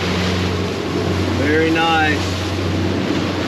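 Fishing boat running at 16 to 17 knots on flat water during a big incoming tide, a steady loud engine drone mixed with wind buffeting, and someone briefly speaking over it.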